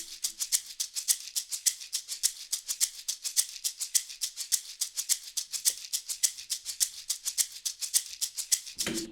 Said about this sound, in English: And then we have our face shaker.